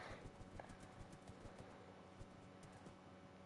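Rhythmic clip-clop of horse hooves trotting at a steady pace in a video game, quiet and evenly spaced, with no voices.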